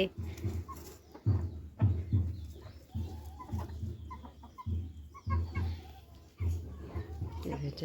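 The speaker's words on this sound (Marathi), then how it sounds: "इथं कडकनाथ आहे इथं हे काळी काळी कडकनाथ कोंबडी" Black Kadaknath hens cluck in short repeated bursts close by on a farm, while someone talks over them almost throughout.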